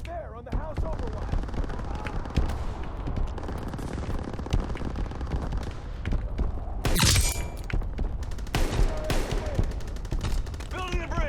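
Machine gun fire in Call of Duty: WWII rattles in rapid bursts among scattered gunshots and heavy impacts, with a loud cluster of blasts partway through and voices talking throughout.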